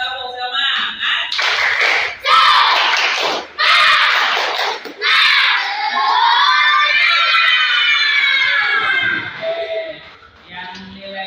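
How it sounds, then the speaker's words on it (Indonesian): A school class performs the tepuk semangat clapping chant, with quick bursts of group claps early on, then loud, sustained shouted children's voices that fade at the end. "kalau senang kita tepuk semangat dulu. Tepuk semangat."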